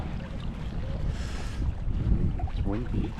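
Gusty wind buffets the microphone beside a clear-water pool on a waterfall hike, a steady low rumble throughout with brief speech-like sounds near the end.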